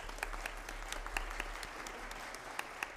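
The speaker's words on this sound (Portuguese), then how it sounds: "Uma salva de palmas para o Bernardo." Faint audience applause for a youth entrepreneur at a parliamentary youth forum, scattered hand claps over a low hum throughout.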